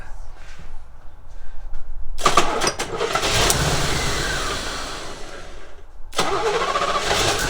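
A Chevrolet Corvette engine cranks, trying to start, in one long sustained grinding burst that cuts off and then resumes, with no clean catch. It is close and fairly loud, and quieter background noise comes before it.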